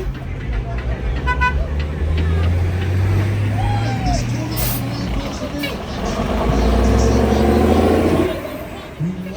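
A vintage Orion bus departs a heritage bus festival with a short hiss of air brakes amid a low idling engine rumble, a horn toot and surrounding traffic noise, fairly close and loud.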